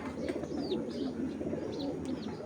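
Blue junky pigeons coo close by in a short, steady stream of soft, throaty rolling calls, with a few faint chirps from other birds and no speech.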